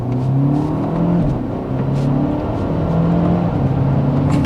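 A BMW M135i engine accelerates loudly and close by, its tone climbing and dropping through several rev sweeps with a steady mechanical whir underneath.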